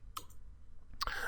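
A few sharp keyboard keystrokes typed on a computer during a software session, two separated clicks about a second apart, fairly close and alone with no talk.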